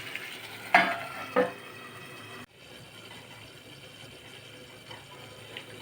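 A couple of brief clatters from a pot, then a steady, soft bubbling hiss of green pepper curry simmering under a lid, close by and continuous.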